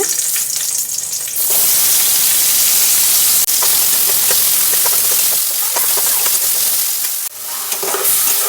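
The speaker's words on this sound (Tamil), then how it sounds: "இப்போ வந்து நம்ம தக்காளி ஆட் பண்ணிக்கலாங்க இதுவும் நல்லா வணக்கி எடுத்து வச்சுக்கலாங்க" Chopped tomato sautés in a pan for baby corn butter gravy, sending up a loud, dense hiss of frying with stirring scrapes and a few sharper knocks against the pan.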